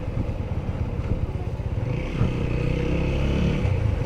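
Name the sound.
Honda sports tourer motorcycle engine while riding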